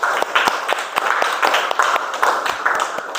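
A small group claps together at the close of a school lesson: a short burst of brisk, fairly close, rhythmic hand claps, sharp individual slaps standing out, lasting a few seconds with no talk.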